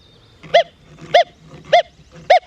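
An XP Deus 2 metal detector at 53 kHz, sweeping over a buried silver mercury dime, gives four strong, evenly spaced tonal beeps, loud and close.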